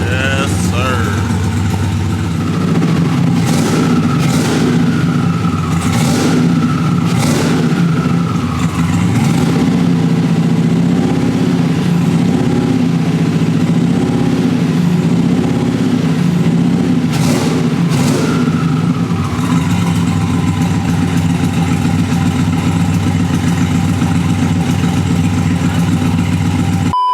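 Turbocharged 426ci Hellcat engine idling while warming up on a dyno, a loud deep rumbling idle with occasional blips and brief revs, close up, with some talk over it.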